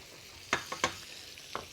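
Unpeeled carrots frying in butter in a pan, heard as a few distinct bursts of scraping and sizzling, about four separate hits close by, with quiet pauses between them.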